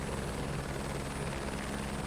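A helicopter lifts off in Microsoft Flight Simulator 2024, its rotor and turbine making a loud, continuous droning whir throughout.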